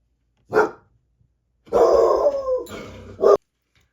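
A pet dog barks at a delivery driver, giving one sharp bark followed after a pause by a longer, growly, howling outburst and a final bark, loud and close in an otherwise quiet room.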